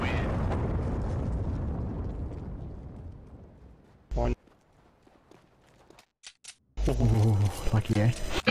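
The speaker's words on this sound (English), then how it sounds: "I'm gonna get killed by the explosion." A loud bomb explosion in Counter-Strike: Global Offensive on the Dust 2 map opens with a heavy boom whose broad rumble fades over about four seconds. After a near-silent gap, game sounds return and a player talks over them.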